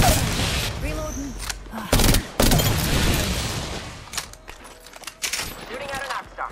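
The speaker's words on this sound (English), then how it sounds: "Shooting at an Arcstar." Rapid gunfire bursts in the Apex Legends battle royale shooter, loud sharp volleys with pauses between them, mixed with game effects and someone talking over the action.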